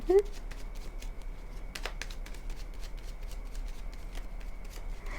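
Tarot cards being shuffled for a reading, giving a string of soft, quick riffles and light taps that recur over a faint steady hum, heard close and quiet.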